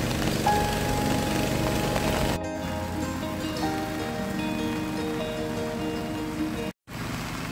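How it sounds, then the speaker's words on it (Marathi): Heavy monsoon rain falls steadily in the hilly Konkan countryside, a dense continuous wash of drops on surfaces that fills the whole scene, with a brief dropout near the end. "त्या डोंगरावरनं वरच्या पाऊस एवढं पडता ना"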